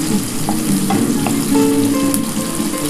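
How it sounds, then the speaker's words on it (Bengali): Grated beetroot fries in a pan with onion, garlic and dry chilli, giving a loud, dense, continuous sizzle close by, with a few light stirring knocks and no talking. "এটা একটুখানি ভালো করে ভাজা হোক বন্ধুরা।"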